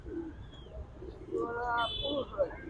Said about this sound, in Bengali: সুন্দর এক জোড়া গিয়াসুল্লি কবুতর আছে দেখতেই পাচ্ছেন